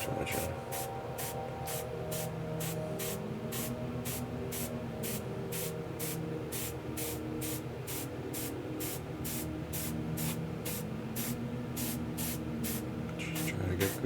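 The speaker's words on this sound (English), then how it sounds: "Let's see what happens if we spray too much on." Spray paint hisses onto a model figure in about two dozen short, evenly spaced bursts, each a sharp airy spritz, over a low steady background drone.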